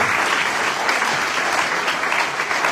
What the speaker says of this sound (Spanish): déle un aplauso al Señor mientras los hermanos pasan